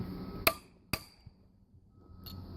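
A hammer strikes a metal punch to mark stainless steel: two sharp, ringing metallic taps half a second apart, then a fainter knock, over a quiet workshop background.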